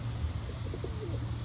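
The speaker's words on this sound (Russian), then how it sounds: "Вон они, голуби," Pigeons coo softly in a quick string of low, rolling notes outdoors in a city, faint and distant beneath a steady background rumble.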